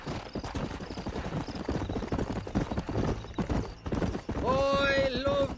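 Hooves of a horse galloping in Red Dead Redemption beat in rapid, close clip-clop rhythm, joined near the end by a whinny, with voices talking over parts of it.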